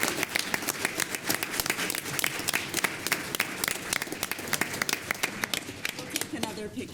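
Audience applause at a city council meeting, a dense run of hand claps filling the room for several seconds, steady and fairly loud, with voices talking over it.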